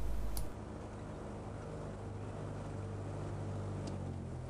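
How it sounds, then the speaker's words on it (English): A small plane taxis onto a grassy parking area, its engine droning steadily up close with a low rumble, softening slightly after a louder first half-second. "Taxiing onto the grassy parking area here."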